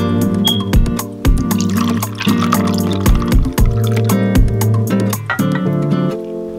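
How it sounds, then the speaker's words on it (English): Pineapple juice pours into a cocktail glass packed with ice, a continuous liquid stream running beneath steady, prominent background music. "Next, I add my pineapple juice."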